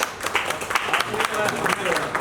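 Applause from a foundation day gathering of a marketing team, scattered clapping that swells and dips, with a voice speaking over it.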